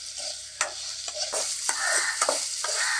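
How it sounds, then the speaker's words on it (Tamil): Small potato pieces with mustard seeds fry in oil in a pan and are stirred, with a continuous close sizzle broken by scraping spoon strokes and soft crackles, no voices. "ஒரு கடாயில் எண்ணெய் ஊற்றி கடுகு போட்டு உருளைக்கிழங்கு சின்ன சின்னதாக கட் பண்ண பீசஸாக போட்டுக்கிறாங்க."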